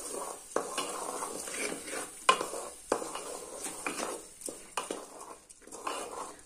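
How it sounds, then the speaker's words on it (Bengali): Uncooked rice and dal are stirred and dry-fried in a pan, giving a steady soft sizzle broken by repeated scraping taps of a utensil against the metal, close and alone. "এবার আমি চাল এবং ডালটা ভালোভাবে মিক্স করে নেব"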